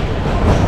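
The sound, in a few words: Kalka-Shimla toy train at Shimla railway station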